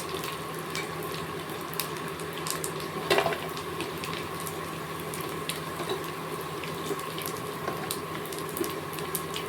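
Sabudana pakodas frying in hot oil, a steady, dense sizzle and crackle running throughout with a brief louder burst midway, no voices.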